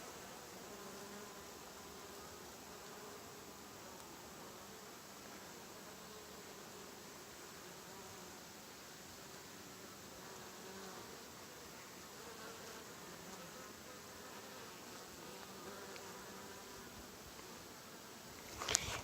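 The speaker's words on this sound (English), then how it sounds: "it's just covered with different types of bees. A lot of honeybees, of course" Honeybees and several other kinds of bees swarm a flowering plant about fifty yards from a bee yard, their faint, steady buzzing droning continuously in the background with no voices.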